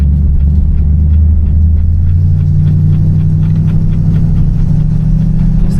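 A 1960 Chevrolet Impala engine rumbles steadily under light throttle while driving, its deep low tone rising slightly in pitch partway through as the car gathers speed, loud and close with no talking.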